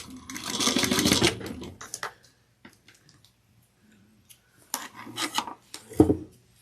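A sewing machine stitches a braid flat for a drawstring satchel, running in two loud close bursts separated by quiet rustling handling.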